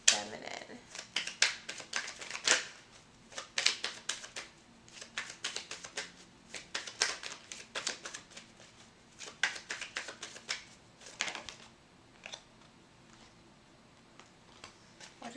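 A Lenormand card is drawn from a deck, with soft repeated shuffling and flicking of cards close by, irregular and faint, while a person talks quietly at intervals.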